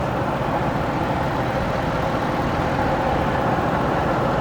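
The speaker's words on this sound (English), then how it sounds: "Motor sounds good." A 2010 Ford F-150 pickup's 5.4 Triton V8 engine idles steadily up close, a continuous low rumble with no talking.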